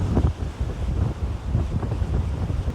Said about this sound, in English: It's crazy how much the wind increases when you get near these cliffs like this.